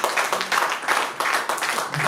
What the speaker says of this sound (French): Non, acclame pour la parole de Dieu.